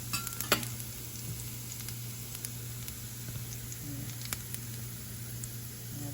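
Garlic frying and browning in a pan: a steady, moderately quiet sizzle with faint crackles and a low hum.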